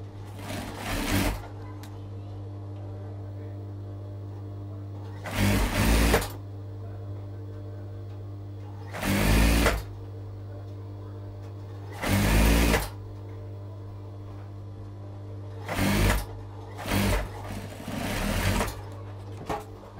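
Bursts of a sewing machine stitching a round decorative pillow for a Moroccan salon, several short runs of rapid mechanical whirring separated by pauses over a constant low hum.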